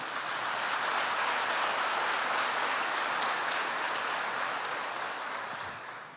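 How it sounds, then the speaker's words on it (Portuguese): A church congregation applauds during a worship service, a soft, even wash of many hands clapping that sounds somewhat distant and fades slightly at the end. "Pode dar um aplauso ao Senhor?"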